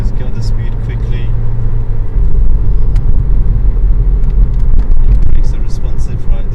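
A 2.0 VVTi Toyota Avensis engine pulls up toward 4,000 rpm, its cabin rumble swelling louder partway through as the car gathers speed, while someone talks over it.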